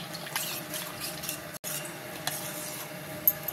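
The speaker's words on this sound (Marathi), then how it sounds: "लम्स उरपा जायना, सगळे घोळून घेवपाचे" A spoon stirs a Goan-style horse gram (kulith) mixture in a pot to break up lumps, giving soft scraping and clinking strokes with faint sizzling, close by and without voices.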